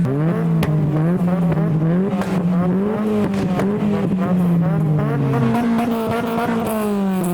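Modified cars rev loudly at a car meet, a Ford Fiesta joining in. A close, continuous engine drone swells and dips in pitch with repeated throttle blips, with no talk over it.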